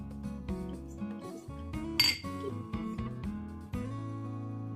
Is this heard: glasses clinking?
yes